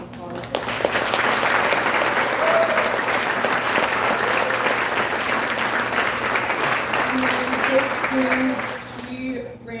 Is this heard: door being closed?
no